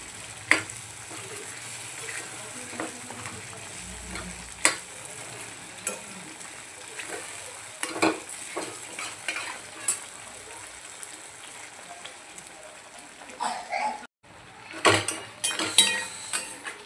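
Mutton pieces being stir-fried in masala for mutton sukka, giving a steady low sizzle broken by repeated spatula scrapes and clinks against the pan, with a burst of louder stirring near the end.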